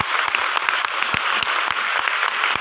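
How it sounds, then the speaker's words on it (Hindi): An audience claps for a direct-selling Ayurveda company, a dense, steady round of applause with some sharp individual claps standing out close by, and no voices over it. "एक बार ताली बजना दी आईएमसी के लिए।"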